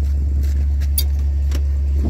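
1957 Chrysler Windsor airport limousine with a Hemi engine idling, a steady low rumble with faint light clinks over it.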